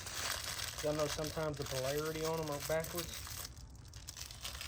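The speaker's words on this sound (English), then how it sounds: "Sorry about the noise. I was getting a piece of bubble gum." Crinkling and tearing of a bubble gum wrapper being unwrapped close by, steady and papery across the clip, while someone talks over it.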